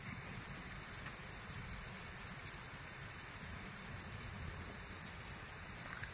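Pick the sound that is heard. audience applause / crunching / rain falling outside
rain falling outside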